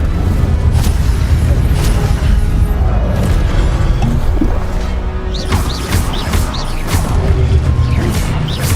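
Spell effects from the fantasy game Hogwarts Legacy, including the Incendio fire spell, heard as a steady loud roar of whooshes, crashes and booming impacts, with sharp bright bursts in the second half.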